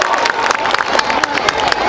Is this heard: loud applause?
yes